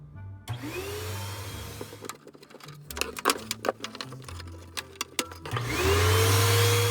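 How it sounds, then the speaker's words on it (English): A vacuum cleaner motor whines up while cleaning refrigerator coils, stops amid a burst of clattering knocks and clicks, then spins up again loudly at the end. "as clean as we can get it with a vacuum cleaner"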